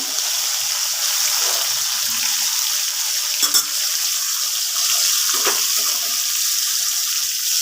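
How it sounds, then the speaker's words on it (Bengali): Garam masala and cumin seeds temper in hot oil with an even, hissing sizzle close by and a couple of faint knocks of a utensil. "তেল গরম করলাম তেলের মধ্যে আমি দিয়ে দিয়েছি গরম মশলা আর জিরে ফোড়ন"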